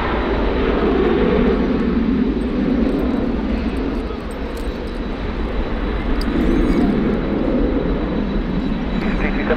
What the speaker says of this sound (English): Here we've got an Egyptair blasting off down runway 23.